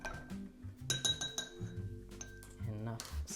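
A Mr President cocktail stirred in a mixing glass: a bar spoon clinks and rattles ice against glass in quick bursts, close and clear, with a few soft rattles and bumps between.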